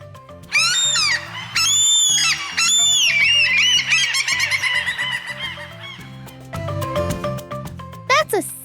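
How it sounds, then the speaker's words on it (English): Gull-like squawking calls, several loud harsh cries in quick bursts over the first half, followed by a few sharper shrieks near the end, with a backing music bed running underneath. "They squawk loudly and love to snatch snacks left behind on the sand."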